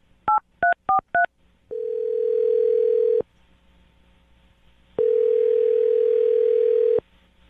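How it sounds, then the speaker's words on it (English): Four quick touch-tone beeps are keyed in, followed by two long, steady phone tones separated by a short silence. "I'm going to dial his phone number right now"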